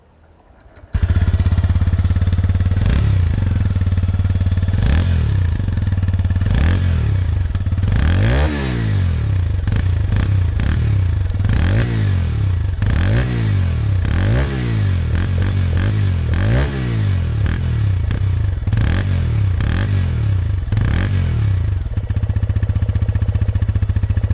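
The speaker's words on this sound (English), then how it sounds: "the sound of the exhaust is also probably the best in class. Let's have a listen" A TVS Raider 125 motorcycle engine idles with a deep, throaty exhaust, then revs repeatedly in sharp bursts, loud and close, before settling back to a steady rumble.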